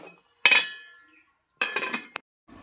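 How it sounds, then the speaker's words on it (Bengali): A metal lid lifted off a pot of potato and paneer curry simmering on a home stove, giving a sharp clatter and ringing clink, then a second scrape-and-clank burst with a brief bright ping, close and alone. "এবার আমি ঢাকনাটা খুলে দেখব কতটা কি হয়েছে"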